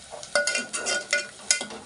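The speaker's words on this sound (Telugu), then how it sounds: "ఉల్లిపాయని బాగా వేపుకోవాలన్నమాట నూనెలో" Onions fry in oil in a pot for a dried-fish onion curry, giving a soft sizzle punctuated by repeated scraping stirs in a quick irregular rhythm, close and moderately loud.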